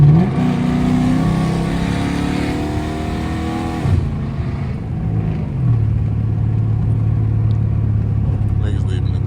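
A catless R/T car accelerates hard at night, its engine roaring loudly from inside the cabin before backing off, where the exhaust gives faint pops and burbles; someone talks throughout.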